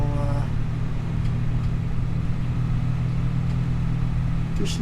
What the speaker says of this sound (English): We're just driving around now.